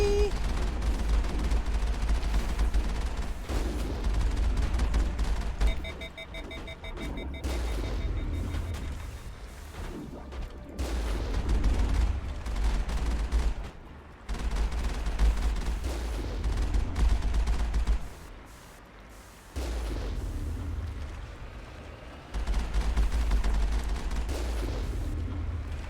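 Sniper fire pelting the Mako armored vehicle in Mass Effect, repeated booming shots and blasts layered over a constant heavy engine rumble for a long stretch, loud and dense with short quieter gaps.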